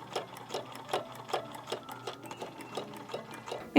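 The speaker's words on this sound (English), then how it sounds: "The machine definitely loosened up the more I sewed" A vintage 1950 Elna Grasshopper sewing machine stitching with a steady, rhythmic clatter of evenly spaced beats, up close and alone, ending in a brief louder knock.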